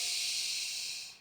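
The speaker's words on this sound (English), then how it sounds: "And breathing quite strongly and generously into this." A single strong, airy exhale, full and breathy, is heard close up during a floor-based yoga stretch and fades out at the end.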